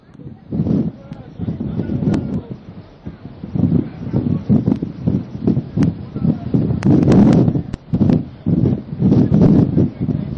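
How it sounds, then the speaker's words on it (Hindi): Strong wind from Cyclone Hudhud in India roars and batters a reporter's microphone throughout, with a voice talking underneath. "बहुत तेज हवा चल रही है।"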